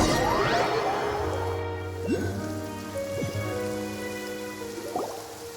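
Rain falls steadily in the video game Genshin Impact, a constant close hiss of drops that lasts throughout, with soft sustained tones of background music beneath it.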